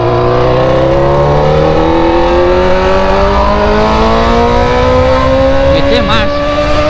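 A BMW car engine revving loudly and close, its deep droning tone climbing steadily in pitch throughout, harsh and continuous.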